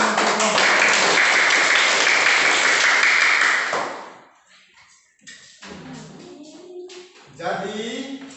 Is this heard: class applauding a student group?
yes